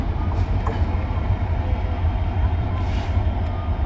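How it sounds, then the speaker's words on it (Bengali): A train pulls out from line three at Joydebpur station, a continuous rolling rumble with faint rail clatter, while a voice speaks over the din. "আরেকটি ট্রেন তিন নম্বর লাইন থেকে ছেড়ে চলে যাবে জয়দেবপুর স্টেশন থেকে"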